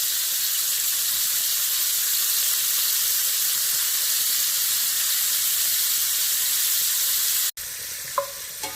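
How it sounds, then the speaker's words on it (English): Seasoned, patted-dry shrimp sizzle in a single layer in a pan, a loud steady frying hiss that runs unbroken, then briefly cuts out near the end before a few light clinks and scrapes. "Cook your shrimp in one layer."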